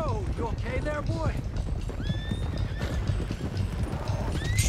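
In Red Dead Redemption 2, a horse whinnies repeatedly while hooves clip-clop steadily close by, with shouting voices mixed in the busy scene as a stallion gets loose.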